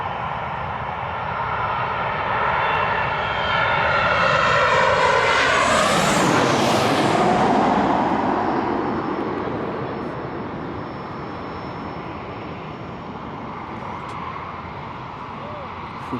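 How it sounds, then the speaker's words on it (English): A TUI airliner approaching to land at Newcastle Airport passes overhead, its engine roar swelling to a loud peak with a sweeping pitch shift, then fading away; a person talks faintly beneath it. "Hopefully get a great shot with this TUI coming into land"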